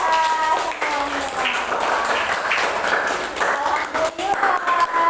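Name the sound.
class clapping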